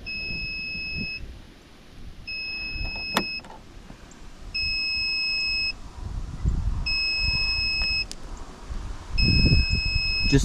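A Toro PowerMax e26 electric snow blower with a dead battery gives five evenly spaced, shrill electronic beeps, each about a second long and roughly two seconds apart, over faint background rumble.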